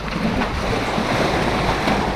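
Sea waves at a hidden sandy beach by rocks at Khao Tao, Prachuap Khiri Khan, wash and surge in a steady, loud roar with wind buffeting the microphone throughout.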